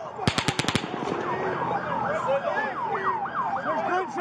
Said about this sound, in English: There's gunshots coming from over there!